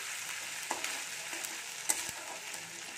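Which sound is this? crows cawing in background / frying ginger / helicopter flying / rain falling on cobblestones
frying ginger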